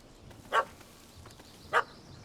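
A puppy barks in The Witcher 3 video game, two sharp, separate yaps about a second apart over quiet ambient background, with no voices.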